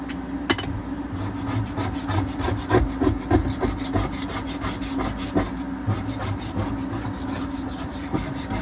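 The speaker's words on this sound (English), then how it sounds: "first we got to scrape off that gunk" Steady rhythmic scraping of old carpet adhesive gunk off the V-berth floor of a Coronado 35 ketch sailboat, a close, repeated rasping stroke continuing throughout with no talk.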